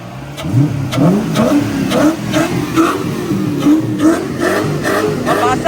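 A Suzuki Cultus with a swapped Honda K24 engine and new air filter revs loudly up close, its throaty roar rising and falling in quick repeated bursts.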